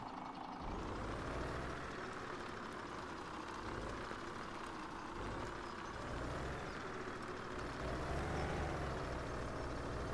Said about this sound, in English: So this works out pretty well because the truck can go fairly fast on the road parts.